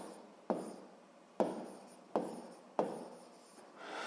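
A pen writing out a seventh-grade physics exercise, giving four distinct scratchy strokes with short pauses between them, close and quiet with no talk.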